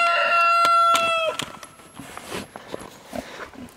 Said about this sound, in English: That crow right there, that was one of the new Icelandic roosters learning to crow.